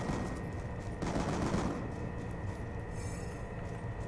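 Rapid video game gunfire bursts in an online party game, a dense steady rattle of shots with a louder volley around the middle and electronic tones near the end, no talk.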